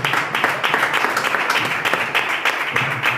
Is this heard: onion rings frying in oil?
no